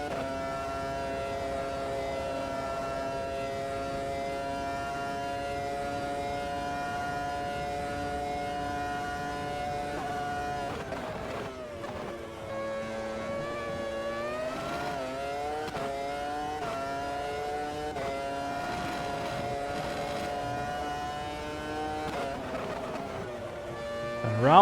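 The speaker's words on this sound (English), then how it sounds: "You can listen to the V10 engines as we're trying." Formula 1 V10 engines racing at Road America in a video game, a steady high-pitched wail that dips and climbs through gear changes and corners, with several cars blending together and a commentator talking over it.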